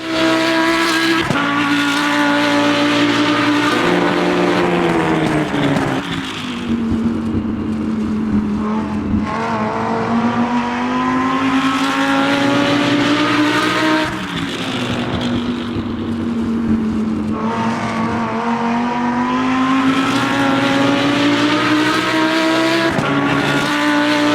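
A race car engine in the Le Mans Ultimate racing game, heard from outside the car, roars loudly and continuously, rising and falling in pitch through repeated gear shifts and throttle changes, with brief tire squeal.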